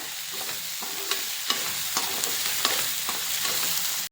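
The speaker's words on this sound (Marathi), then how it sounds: "हिरवे वटाणे घेतलेले आहेत ते व्यवस्थित फ्राय करून घ्यायचे" Green peas frying in oil in a pan for a paneer makhana curry, a continuous sizzle punctuated by regular spoon scrapes and taps every half second or so, close and clear, no talking.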